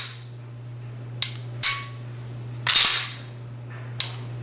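Revolver trigger dry-fired in double action, a few sharp, close metallic clicks and snaps spaced irregularly over a steady low hum, with no talking.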